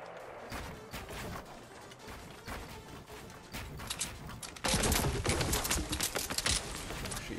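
Rapid gunfire strikes a player-built wooden structure in a Fortnite-style battle royale game, a dense crackle of impacts that grows louder and fuller partway through, with no voices.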